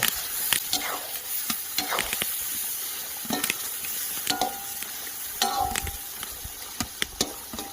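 Meat with fat-tail lard and cumin sizzles steadily in a hot pot outdoors while a utensil scrapes and clanks against the sides in irregular strokes, close by.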